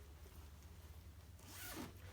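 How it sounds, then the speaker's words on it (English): A zipper on one of the two large pockets of a sewn, lined carry-all bag stiffened with fusible stabilizer is drawn in one quick pull, close and fairly soft, over a steady background hum. "Two large pockets have zippers."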